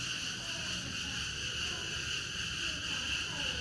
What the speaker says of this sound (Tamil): அப்படியே வண்டு கத்துற சத்தம் தான் உங்களுக்கு கேட்கும்னு நினைக்கிறேன்.